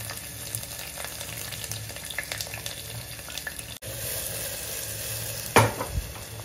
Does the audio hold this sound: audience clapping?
no